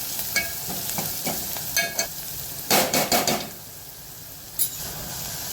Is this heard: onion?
yes